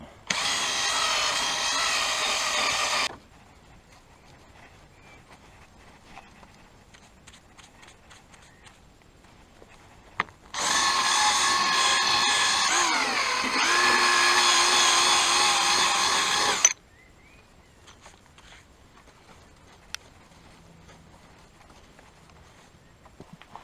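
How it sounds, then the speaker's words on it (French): A power sander wet-sanding the bodywork of a Renault Clio 2 runs in two loud, steady bursts, about three seconds and then about six seconds long, separated by a quiet pause. "Ponçage à l'eau."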